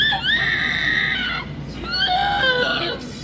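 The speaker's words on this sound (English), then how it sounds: "Why is the robot screaming?" A malfunctioning dentist robot screams in two long, shrill, wavering wails separated by a brief pause, loud and close, with no talk.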